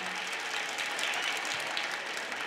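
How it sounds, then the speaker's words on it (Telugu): Students in a classroom applaud themselves with dense, continuous clapping that sounds slightly distant and fairly faint, with no voices over it. "ఓసారి గట్టి చప్పట్లు మీకు మీరే కొట్టుకోండి నాన్న"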